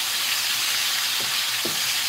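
Beef fillet steak frying in a pan gives off a loud, steady sizzle with a couple of faint knocks or scrapes underneath, close and without talk.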